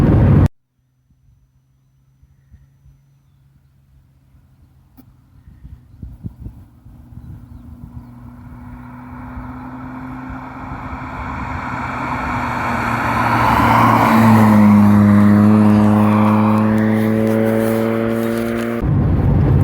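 A 1980 Volkswagen Scirocco GLS MK1 drives along a road, its engine a low steady drone that swells and rises in pitch toward the end, with some wind noise and no talking.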